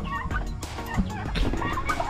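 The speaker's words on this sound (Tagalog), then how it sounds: "ang ating mga alagang pabo" A flock of turkeys gobbling in loud, overlapping bursts close by, with a busy barnyard clamor running continuously throughout.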